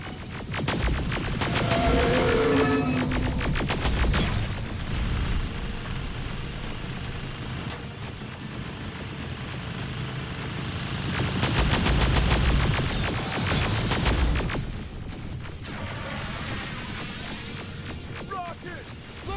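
Rapid automatic gunfire and booming blasts from the Terminator Resistance video game come in dense bursts with quieter stretches between them, and shouted voices cut in over the combat.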